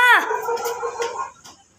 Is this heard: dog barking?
yes